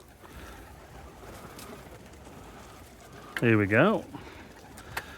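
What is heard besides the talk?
pigeons cooing at a bird feeder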